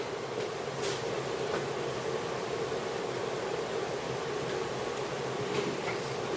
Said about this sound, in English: excuse the loud noise that's going to be coming from the air compressor